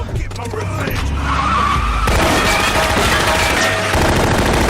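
Car chase from the 2007 Steven Seagal film Urban Justice: loud revving engines and skidding tyres, with a sharp cut midway into a denser roar of motor noise and bursts resembling gunfire, all close and intense.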